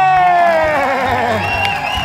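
Audience at an Indonesian TV music show cheers and shouts for a band, loud and close, a sustained crowd roar with voices carrying over it throughout.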